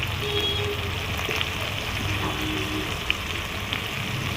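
Mango pieces frying in hot oil for a Bengali mango chutney, giving a steady, close sizzle and crackle with small pops, continuous throughout without any talk.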